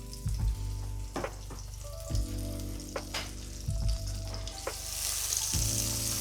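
Plant-based butter sizzling in plenty of hot oil in a pan, a steady frying hiss with bursts of crackle and occasional stirring or scraping knocks, close and fairly loud with no talk.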